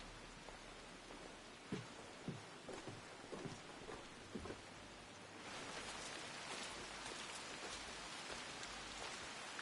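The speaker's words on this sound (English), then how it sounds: "I wonder if the rain's scripted." Rain falling in Assassin's Creed Shadows, a steady hiss of rain on surfaces with scattered drops that swells noticeably heavier partway through, with no speech.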